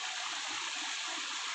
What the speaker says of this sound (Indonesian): Caina ngagenclang di mana cing? Ieu namina Walungan Watariri, ayana di distrik Oransbari, Kabupaten Manokwari Selatan, Papua Barat.